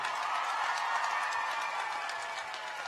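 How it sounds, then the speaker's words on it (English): A large audience at the opening event of the I Promise School applauds steadily, producing a dense, continuous wash of clapping with no voices on top. "can we get a round of applause for Tori Kelly?"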